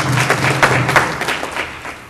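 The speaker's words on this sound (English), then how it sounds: "give yourself a round of applause for that." Event audience clapping at a breast cancer mammogram program kickoff, a short loud burst of hands with distinct sharp claps standing out over a low hum.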